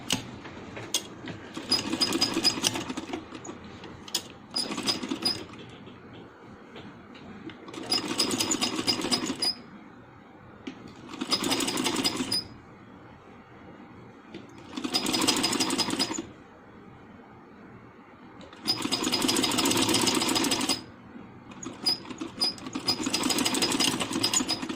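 Sewing machine stitching a folded strip onto a handmade baby dress, running in about six loud bursts of steady whirring separated by short quiet pauses.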